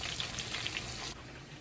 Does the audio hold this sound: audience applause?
no